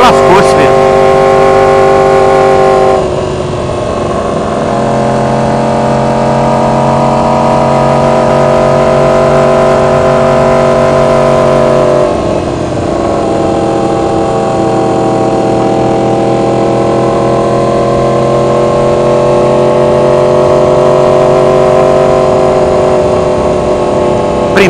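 A 2015 Ducati Hypermotard's engine revs on a mountain road near Dahlonega, a loud sustained drone whose pitch climbs and dips as it is held in a long first gear, with a brief break partway through.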